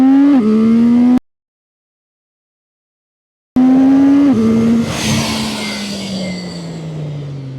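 CFMOTO 675SR-R motorcycle accelerating hard from a standstill to 100 km/h, the engine note climbing sharply through quick gear changes, loud and close, with a cut-out gap before it resumes and trails off.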